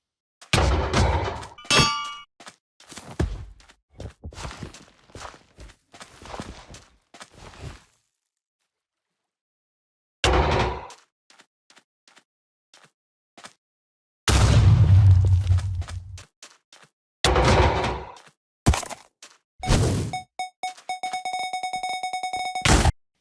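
Sound effects from a custom Minecraft endgame boss: a run of loud metallic clangs, booms and blasts separated by silences, then a sustained rumbling burst and a steady electronic target-lock tone toward the end.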